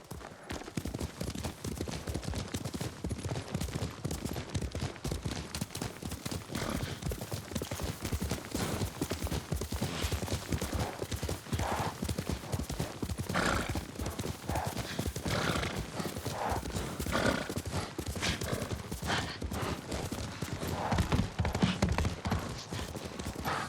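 Horses galloping in Ghost of Tsushima, a dense, steady stream of clip-clopping hooves close by, with a horse whinnying now and then and a loud, continuous bed of motion.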